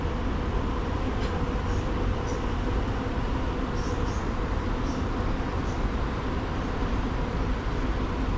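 A long train passes beside the tracks next to an expressway and a canal. The rumble is faint and broad, with light clanks scattered through it and no voices over it.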